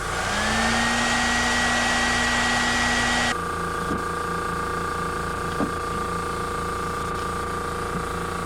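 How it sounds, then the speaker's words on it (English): A heat gun blows a loud, steady roar while heat-setting paint on a fishing lure, then cuts off after about three seconds, leaving a quieter room hum with a few light knocks. "Let's heat set that and see what it looks like."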